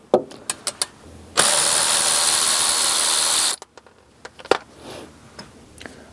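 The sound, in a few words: removing bolt from brake hose bracket, Honda Accord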